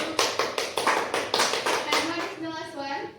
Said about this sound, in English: Please give applause too.